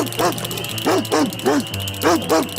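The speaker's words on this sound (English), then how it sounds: "Suddenly, a big hungry dog came chasing the 2 ducks." A big dog barks in repeated sharp bow-wow bursts while chasing two ducks in a children's story scene, the barks coming in quick pairs over a steady low hum.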